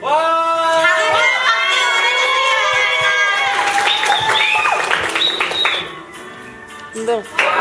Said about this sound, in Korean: 큰 박수로 호응해 주시기 바랍니다.